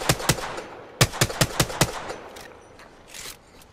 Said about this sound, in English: I got my gun and tap fire to conserve bullets.